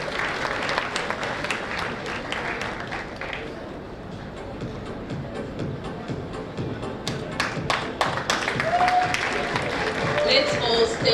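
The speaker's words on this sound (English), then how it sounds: "Can we invite her on the stage with a huge round of applause" Applause from an audience at an African students' congregation ceremony at a university, a steady crowd clapping that holds throughout and swells louder near the end, with faint talk mixed in.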